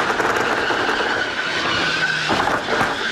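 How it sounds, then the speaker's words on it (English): A 2018 NASCAR Pinty's Series race car roars loudly and steadily, with a rough, juddering edge from rear wheel hop; no voices are heard. "That sounds like wheel hop."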